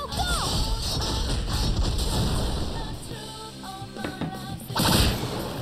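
An all-out attack plays out in the Persona 4 Golden video game as a busy flurry of battle hits and impact effects, layered over tonal game sounds and ending in a louder burst.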